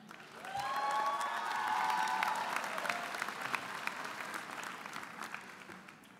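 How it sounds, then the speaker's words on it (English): Sustained applause from a large audience at a Radford University winter commencement ceremony, steady clapping that swells and then gradually tapers off, with a few whistles early on. "One more round of applause for our graduates."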